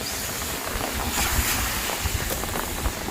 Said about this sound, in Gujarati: મસ્ત વરસાદ આવ્યો છે, છત્રી હાથમાંથી ઉડી જાય એવું થાય છે।